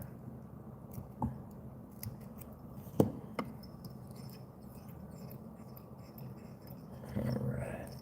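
Scissors snip off excess material while tying a pheasant tail nymph fly: a few sharp, close clicks spread apart against a quiet background.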